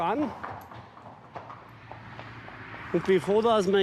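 A horse's hooves clip-clop faintly in a church procession, under a voice speaking throughout.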